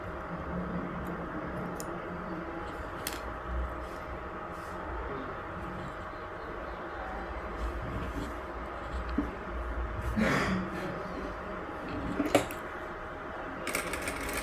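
A sewing machine stitches blouse fabric in a steady, close whirring run with faint ticks, at a low level with no talk.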